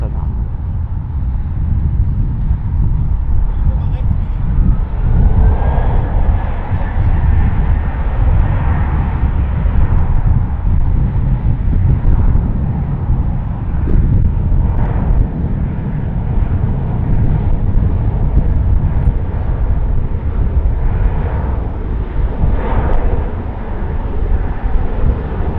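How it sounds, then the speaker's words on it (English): A KLM Dutch Airlines airliner takes off from Munich Airport, its engines producing a heavy, sustained low rumble that holds steady and loud for the whole stretch. "take off to Amsterdam"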